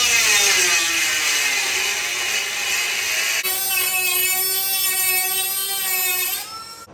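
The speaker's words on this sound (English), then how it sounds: "I'm gonna take my little die grinder cutoff wheel, I'm gonna come across, down and over." A small die grinder with a cutoff wheel spins at high speed against the car body metal of an EM2 Civic during an Acura EL front end swap, giving a loud, steady whine that changes pitch partway through and winds down at the end.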